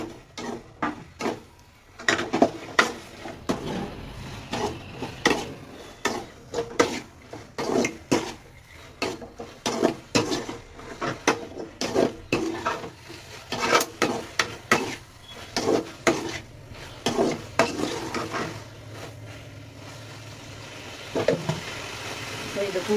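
Fried onions stirred into a bubbling gobi manchurian sauce in a pan, with a steady run of utensil knocks and scrapes against the cookware, fairly close and moderately loud.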